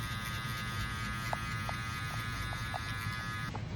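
Electric hair clippers buzz steadily and close while fading a haircut, with a constant hum and a few light ticks as the blade works through hair.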